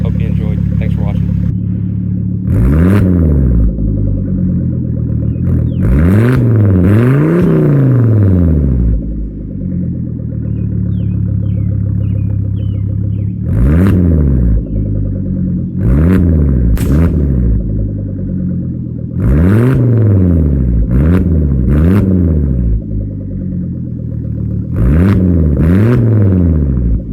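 A project car engine, a Chevrolet Sonic, revs up and down in repeated sharp bursts over a loud, continuous close-up idle, with pauses between the revving groups.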